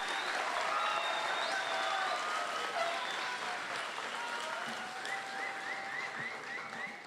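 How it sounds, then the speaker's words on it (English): Applause from a school district event audience honoring teachers, counselors, classified staff and administrators, a steady wash of many hands clapping that holds for several seconds, with faint voices and a few whistles or cheers over it before slowly tapering. "Let's give our teachers, counselors, classified staff, and administrators a big round of applause."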